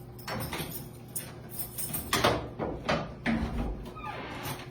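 A vault door opening inside a church in Boston: a series of heavy metallic clunks, slides and latch clacks, close and fairly loud, spaced over a few seconds with no speech.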